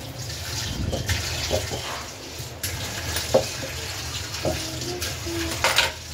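Onions are washed by hand in water in a home kitchen, with steady splashing and sloshing plus occasional soft knocks of the onions against the bowl, at close range.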